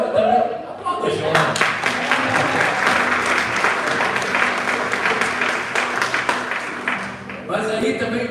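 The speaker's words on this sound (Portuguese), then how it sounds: "Aplauda, João." A church congregation breaks into sustained applause after a sermon line, a dense wash of clapping that swells in after a spoken phrase and holds for several seconds, with a voice talking over it at the start and end.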